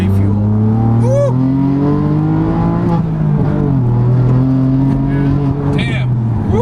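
A widebody BMW F80 M3 with a manual gearbox, tuned to about 645 wheel horsepower on E30 fuel, accelerates hard. Its engine note climbs through rising revs with brief dips at gear changes, loud and close from inside, as people exclaim over it.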